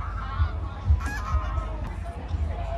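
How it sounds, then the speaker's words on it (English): Geese honk repeatedly at an agricultural show in Newport, with several loud, close calls over a faint background of crowd murmur. "The geese are made up. They're like, right, let's go and raid the bins."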